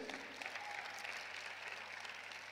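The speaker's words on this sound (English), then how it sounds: "A round of applause to Boost." Steady audience applause at a national student enterprise competition in Zimbabwe, a dense continuous patter of many hands clapping from start to finish at moderate level.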